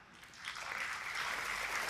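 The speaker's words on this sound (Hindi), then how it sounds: "आज तो आपने ताली बजाई" Audience applause at a motivational talk in Hindi, a broad crowd clapping that swells from moderate to loud and sustained, with no voices over it.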